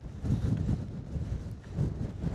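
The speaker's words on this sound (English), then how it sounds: "but it is freezing and it's windy" Cold wind gusts across the microphone on Crag Hill, an 800-metre summit in the Lake District, a low continuous rumble that swells and eases.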